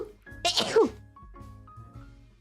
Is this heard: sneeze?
yes